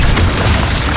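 Incendio fire spell cast in Hogwarts Legacy on PS5, a loud, dense burst of roaring flame and rumble that fills the whole second without a break.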